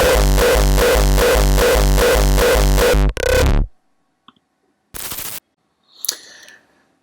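A limited hardstyle raw kick drum pounds in a steady, dense, distorted pattern for about three seconds, then cuts off; a short burst follows, then near silence with a few brief isolated hits.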